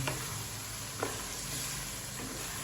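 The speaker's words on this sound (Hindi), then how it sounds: "आलूओं को भी हम अच्छी तरह से भूनेंगे, इसमें कच्चापन बिल्कुल नहीं होना चाहिए" Potatoes fry in a pan for Punjabi aloo matar, giving a steady close sizzle with a few sharp clicks of stirring, and no one speaking.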